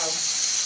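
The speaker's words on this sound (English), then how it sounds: "He likes it when the water's coming up from the shower head." Water from a shower head runs in a steady, close, full hiss that stays even for the whole brief moment.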